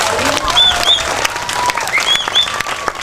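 Audience applause at a Balinese arja comedy performance in Denpasar, loud and close, with a few whistles cutting through.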